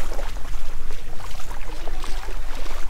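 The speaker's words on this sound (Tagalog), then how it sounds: "Yan yung bangka namin." A boat crossing the sea off Batangas, Philippines, with a low steady rumble under rushing water and gusty wind noise, fairly close and loud.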